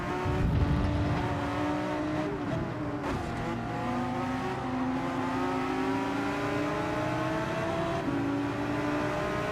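A Toyota Supra race car at Suzuka in Gran Turismo 7 holds a loud, sustained engine note that climbs and shifts through gears, with a brief tire squeal early on, close and continuous throughout.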